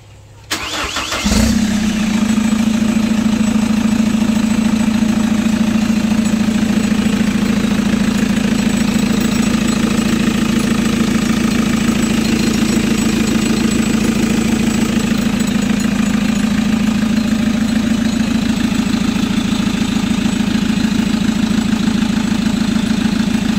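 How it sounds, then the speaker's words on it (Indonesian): A Chevrolet Captiva AWD engine cranks briefly, catches, and settles into a steady, loud idle that drones on close by for over twenty seconds with no talking. "Nah kita biarkan dulu mesinnya nyala."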